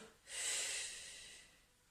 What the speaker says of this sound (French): La dernière fois, j'expire.